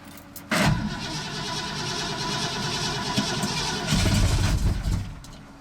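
A 1980 Ford F-350 service truck running on its fuel cell cranks briefly, then catches and settles into a loud, steady idle with a slight rev near the end; no talking.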